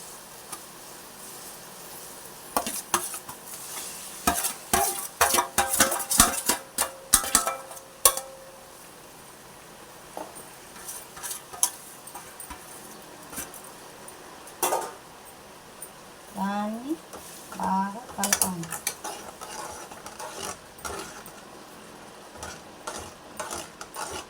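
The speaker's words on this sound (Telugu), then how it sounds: "ఇలా కలుపుకుంటే చక్కగా ఉడుకుతుంటుంది" Vermicelli being stirred into boiling water in a pot while preparing kesari, with irregular clinks and scrapes of a utensil against the pot, bursts of stirring and bubbling, and a person speaking at times.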